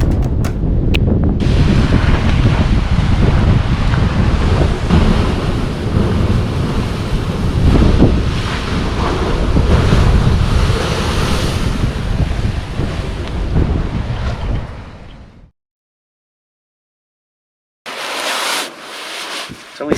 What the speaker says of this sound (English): Blowholes are holes in the rock that lead down to the ocean underneath, where the The limestone has been undercut. The waves coming in force the air up with great ferocity.